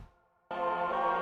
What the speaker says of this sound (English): which is another Mellotron choir, the Genesis kind